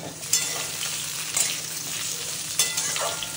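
Potato and pumpkin fry in a pan with a steady, close sizzle, broken by a few louder scrapes and clatters as the vegetables are stirred.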